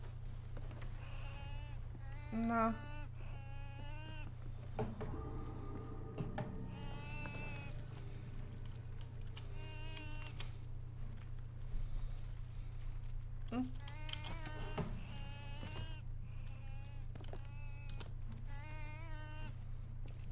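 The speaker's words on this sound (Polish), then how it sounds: "Nam świnia płacze." In the Sea of Thieves video game, a pig squeals and wails in repeated bursts over a steady low hum, with a voice speaking briefly.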